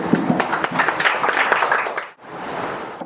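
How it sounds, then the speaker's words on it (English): Applause at an award ceremony for coaching toppers, a crowd clapping steadily and loudly for about two seconds, then a brief dip before the clapping resumes at a slightly lower level. "Round of applause, Jannat Ali"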